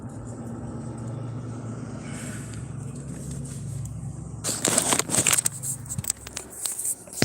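Road traffic rumbles past near a city park, a steady low engine drone that gives way to a louder burst of crackling, clattering noise in the second half, with no clear voices.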